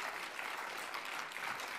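A crowd claps steadily at a journalism prize ceremony, dense even applause sustained throughout without pause.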